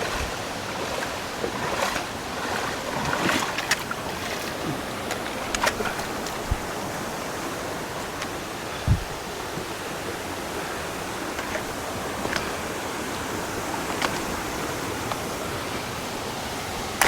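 Steady rushing water of a mountain valley stream in a wild, primitive gorge near Yangsan, a broad continuous wash with a few faint knocks, no talk.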